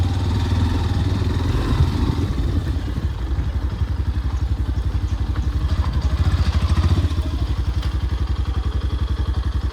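A Yamaha FZ version 4 motorcycle idles close by in a parking area, its engine giving a loud, steady rapid thumping pulse throughout with no speech over it.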